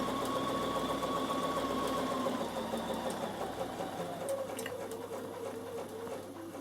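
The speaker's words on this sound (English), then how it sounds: "you sew down to the point." A Bernina sewing machine runs steadily while stitching a card holder, a continuous close motor whir with fine rapid needle ticking that holds an even level throughout, with no talking.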